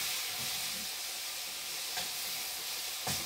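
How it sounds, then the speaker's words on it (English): Meat tossed and turned in a hot pan, sizzling with a constant loud hiss of steam and frying, punctuated by a couple of sharper spatters and soft stirring knocks. "So you just toss and turn your meat while it's cooking."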